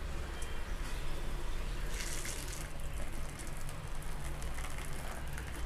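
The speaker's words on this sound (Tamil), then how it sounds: "இப்போ கருப்பட்டி பாகு விட்டு நம்ம மாவு கிளறிக்கலாம். இதை ஒரு 10 நிமிஷத்துக்கு முன்னாடி நம்ம கரைச்சி வச்சுக்கிடணும்" Palm jaggery syrup is poured through a strainer for a Kanyakumari cashew-cluster sweet batter, a soft continuous trickling and splashing of liquid, faint and steady with no voices.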